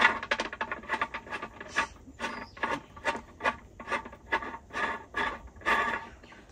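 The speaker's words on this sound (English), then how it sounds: "and you screw it down to how far you want." Rhythmic rasping and scraping as a hanger is screwed down a galvanized threaded rod for a hanging succulent planter, a steady series of short gritty turns, close and clear with no talking.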